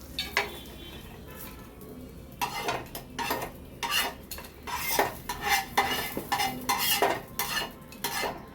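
Metal utensils scrape and clink against a pan as a bread omelette is lifted onto a plate. There are repeated close, bright strikes and scrapes in uneven bursts, with a faint sizzle underneath.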